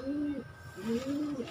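Pigeons coo inside a small loft, two clear rising-and-falling coo phrases close to the listener with no other sounds.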